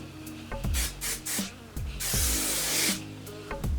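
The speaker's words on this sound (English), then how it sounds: "This is the Aussie Sun Touch Shine Hairspray Instant Shine in one use." Aussie Sun Touch Shine hairspray misted onto hair in a string of short hissing bursts, then one longer spray near the end, all close and loud over background music.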